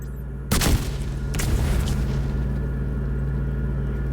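A fire sticky bomb in The Division 2 detonates on a named boss: one sudden heavy boom followed by a sustained low rumble and burning crackle that lingers loudly, with no speech.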